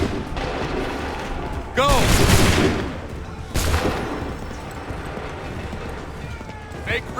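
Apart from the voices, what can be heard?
musket volley fire in video game Assassin's Creed III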